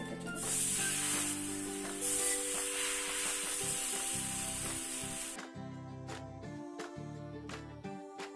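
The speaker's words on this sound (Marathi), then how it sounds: "त्याच्यावर थोडस बटर लावलं, आता हे ब्रेड मी भाजायला घेते" Buttered bread slices toasting in a pan crackle with a bright sizzle that fades after a few seconds, leaving quieter hissing over a steady low tonal hum.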